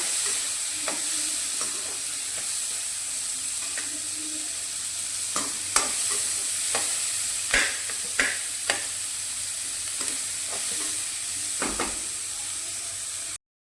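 Chopped onions and green chillies fry on low gas for a bitter gourd curry, giving a continuous soft sizzle broken by several sharp spoon clinks and scrapes against the pan.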